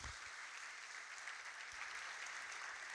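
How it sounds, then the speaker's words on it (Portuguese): Church congregation applauding in a steady, dense wash of clapping that holds evenly for the whole stretch, heard at a moderate distance with no talk over it. "Você pode aplaudir o Senhor porque Ele está aqui"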